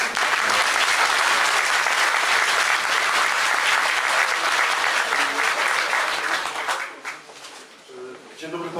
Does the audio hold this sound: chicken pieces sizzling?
no